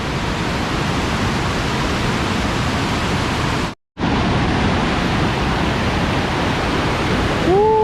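Tad Sae waterfall near Luang Prabang, Laos, roars in a constant loud rush of water, broken by a brief moment of silence, with a faint whistle-like tone near the end.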